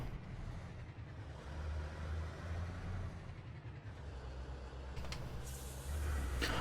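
Heavy truck with double trailers in Euro Truck Simulator 2: a steady diesel engine drone, low and moderately quiet, swelling slightly as the rig pulls away, with a short clatter near the end.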